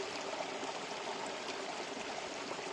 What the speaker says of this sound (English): you can just see that waterfall coming down through that bedrock up there.